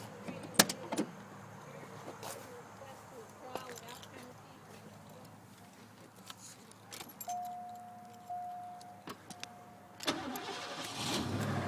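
A freshly tuned 302 V8 car engine is started after keys jangle and a few clicks, then the engine catches and settles into a rising idle near the end, with speech in places.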